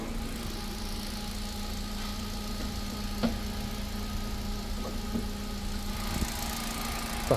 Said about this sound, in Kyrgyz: мынакей мотор иштеши жакшы